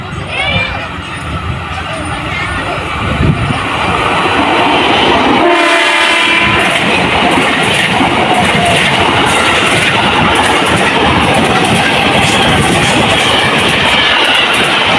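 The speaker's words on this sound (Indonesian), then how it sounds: "Ada KRL nih kawan-kawan berangkat dari stasiun Depok." A KRL commuter electric train pulls out of Depok station, close and loud, with a horn sounding early on, then the wheels clatter and rumble over the rails steadily, along with a crowd chattering nearby.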